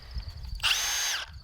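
A Milwaukee cordless drill whines in one steady, loud burst of about half a second, starting abruptly and stopping cleanly, between stretches of quiet room noise.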